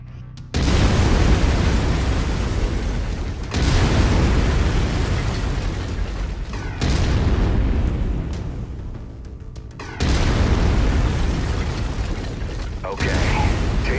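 Mech autocannon firing in MechWarrior 5: Mercenaries, four long loud bursts of heavy rapid fire, each lasting about three seconds and separated by brief gaps, booming and mechanical with no talk over it.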